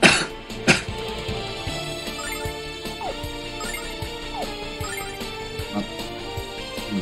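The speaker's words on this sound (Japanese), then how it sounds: "咳が出ます" A man coughs sharply a couple of times near the start, followed by quieter throat sounds over a steady background of retro video game music playing throughout.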